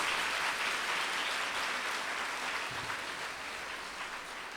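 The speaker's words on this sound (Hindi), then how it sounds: "तालियां बजाइए।" A congregation at a church convention in an ashram hall claps together in steady, dense applause, a continuous wash of many hands that holds even and fairly loud for several seconds with no talk over it.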